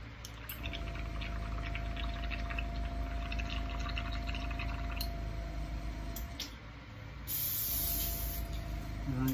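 An airbrush hisses steadily as it sprays paint onto a bass lure, a continuous close airy spray lasting several seconds with a brief dip near the end before a stronger burst.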